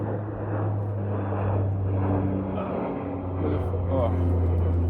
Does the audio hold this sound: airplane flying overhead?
yes